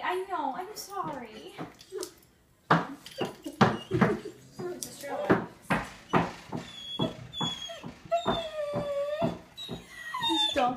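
A Great Dane whimpers and howls in rising, wavering cries mixed with short whines, close and fairly loud, with a voice speaking in between.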